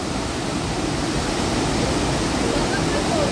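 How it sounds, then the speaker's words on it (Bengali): Dassam waterfall, water pouring down in a steady, powerful roar that stays loud and continuous throughout with no pauses. "নিচে জলটা পড়ছে, খালি দেখো এখানটা"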